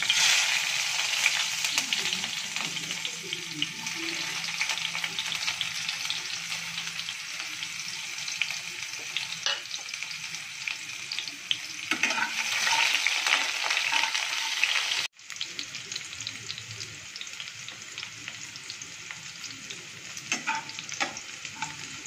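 Onions frying in a pan for an Odia-style radish dish, a loud continuous sizzle with occasional stirring scrapes, a brief dip near the middle before the hiss resumes, no talking.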